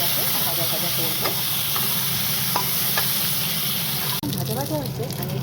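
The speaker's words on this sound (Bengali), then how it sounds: "আলুটাকে ভাজা করবো।" Potatoes fry in oil in a wok with a steady, close sizzle and occasional stirring clinks. A voice speaks briefly over the cooking.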